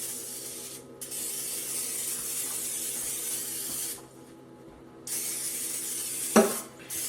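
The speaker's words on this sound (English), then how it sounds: "I'm going to hit this with a little canola oil spray" Canola oil is sprayed from a can onto a seasoned whole turkey in a few short hissing bursts, close and fairly quiet, with a brief knock near the end.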